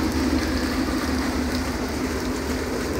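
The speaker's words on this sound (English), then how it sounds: "It's just rain now." Steady rain falling outside just after a hailstorm, an even hiss of drops on surfaces with a low rumbling background, moderately loud and continuous without voices.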